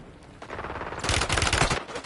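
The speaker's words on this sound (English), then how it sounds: "I'm taking enemy fire!" Rapid automatic gunfire in the Call of Duty Warzone video game, a quick rattling burst that grows louder and denser midway, then cuts off, close and unbroken by talk.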